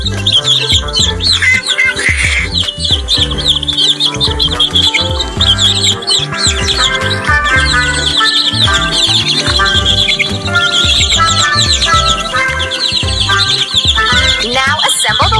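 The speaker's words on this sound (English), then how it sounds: "Let's feed the hungry baby birds with some seeds." Cartoon baby birds chirp hungrily in a children's counting video game, with dense, bright tweets over loud continuous game music and effects.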